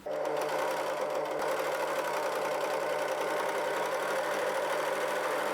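An overlocker serger stitching pieces of fabric together, running at a steady rapid mechanical whir with a fast knocking rhythm that holds evenly throughout, close and without talk.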